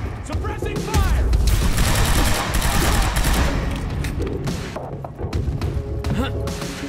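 Suppressing gunfire in Quantum Break, a dense, sustained run of loud shots and thudding impacts for several seconds, mixed with voices speaking.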